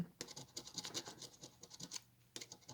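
A coin scrapes across a scratch-off lottery ticket in quick, dry, raspy strokes, close and fairly quiet, with a brief pause before the scratching resumes.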